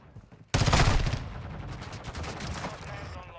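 Sustained automatic fire from an X13 submachine gun in Modern Warfare 2, a sudden loud burst of rapid shots that trails into a rattling echo, with faint background noise before it starts.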